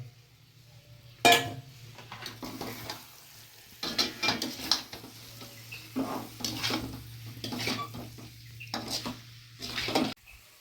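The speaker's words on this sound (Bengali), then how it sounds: "ফুলকপি আলু সমস্ত ভেজে নিয়েছিলাম সেগুলো দিয়ে একটু নাড়িয়ে চাড়িয়ে" Fried cauliflower and potatoes are stirred in a pan with a light sizzle. Bursts of spoon scraping and clatter come close and fairly loud, separated by brief quieter gaps over a low steady hum.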